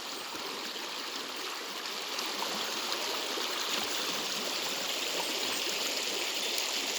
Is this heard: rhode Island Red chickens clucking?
no